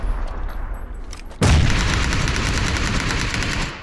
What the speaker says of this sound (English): Lobbing some grenades out.